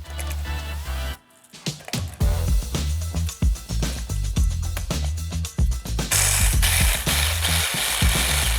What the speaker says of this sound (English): I'm going to be lazy and use this little mini processor.